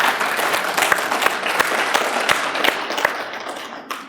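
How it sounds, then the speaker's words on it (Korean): An audience at a Korean gathering applauds Korean War veterans with dense clapping that carries steadily and then thins out toward the end. "박수 한번 보내주시기 바랍니다."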